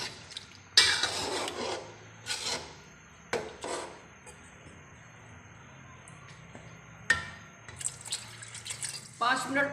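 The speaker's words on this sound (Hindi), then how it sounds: "अभी मैं पानी डाल रही हूँ।" Water splashes and pours in several bursts into a pot of egg and chicken curry, with quiet clinks and rubbing between pours and a voice at times.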